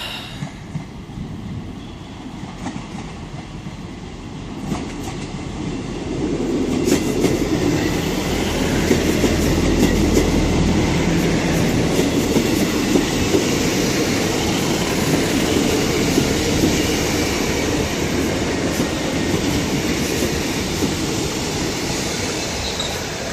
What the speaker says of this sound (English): It's coming into platform 5, so that will be the Bristol 7 Mees train.